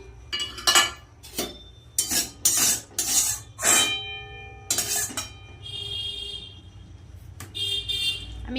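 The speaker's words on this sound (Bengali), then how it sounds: "আমার চাউমিন সিদ্ধ হয়ে গেছে এবার আমি এটা ঝুড়িতে ঢেলে নেব" Boiled vegetarian chow mein noodles tipped into a strainer basket, giving a run of loud metallic clinks and clatters of pots and utensils in bursts, with short tonal squeaks between them and a steady low background hum.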